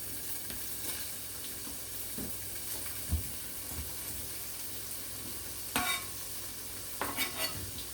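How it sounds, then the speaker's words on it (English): Sausage sizzles and crackles steadily in a hot skillet, with occasional scraping stirs and clinks over the constant frying hiss. "The skillet is very hot, so it's just gonna get to frying up our sausage"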